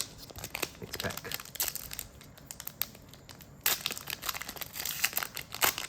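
Foil wrapper of a Sorcery Contested Realm Arthurian Legends booster pack being torn and crinkled open, close-up crackling and tearing in irregular bursts.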